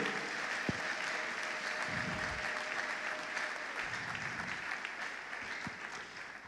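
A church congregation applauding, sustained clapping that fills the room at an even level and tapers slightly toward the end, with a few brief knocks within it.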